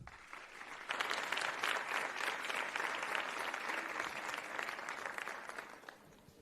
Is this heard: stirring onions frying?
no